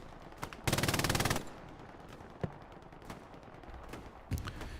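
An MG42 machine gun in a Battle of the Bulge shooter game rips out one long, fast burst, surrounded by scattered single gunshots and a short closing burst, some near and some distant.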